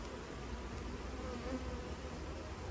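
Dense, steady buzzing of many honeybee workers swarming around an open beehive, close and continuous without pause.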